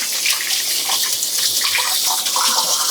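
Tap water runs steadily over hands being washed of bread dough at a kitchen sink, a close, loud, continuous splashing rush with small shifts as the hands move through the stream.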